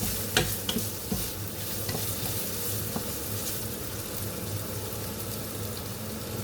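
Fried rice with butter stirred in a frying pan: a steady close sizzle with scraping spatula strokes and a few sharp clinks early on, no talking.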